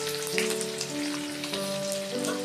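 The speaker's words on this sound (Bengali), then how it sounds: "আমি সাদা তেলের মধ্যে অল্প একটু জিরে ফোড়ন দিলাম, তারপরে আদা কুচি দিচ্ছি" Cumin seeds and chopped ginger fry in vegetable oil with a steady, close sizzle and crackle, loud and continuous throughout with no talking, while a tonal hum runs underneath.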